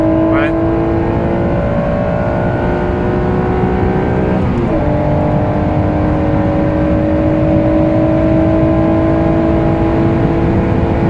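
A Honda NSX accelerates hard from a launch, its engine note climbing steadily with a brief dip, a gear change around the middle, then a sustained high rev toward the limiter, loud and close from inside the car.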